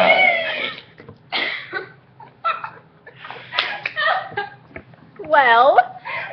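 A girl burps in a series of short bursts, several close and fairly loud, with vocal-sounding pitch sweeps near the end, between moments of laughter and background noise.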